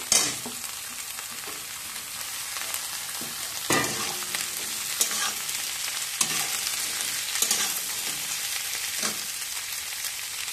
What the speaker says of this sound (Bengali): সবজিগুলো দিয়ে 2 মিনিট নেড়ে নিয়ে